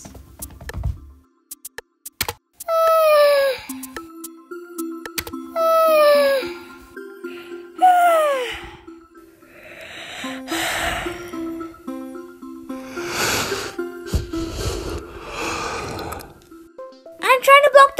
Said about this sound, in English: I'll test yawn sounds.